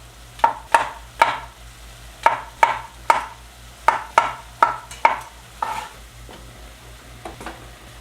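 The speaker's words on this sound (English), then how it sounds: "Chopping mushrooms, fun." A knife chops mushrooms on a cutting board, about a dozen crisp, sharp knocks in uneven bursts and pairs, close and distinct against quiet room tone, with no talking.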